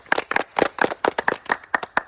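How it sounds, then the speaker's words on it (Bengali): A small group claps for the winner of a competition, about a dozen close, sharp hand claps in a quick, slightly uneven rhythm, with no talking. "রিফাত তার জন্য হাততালি সবার"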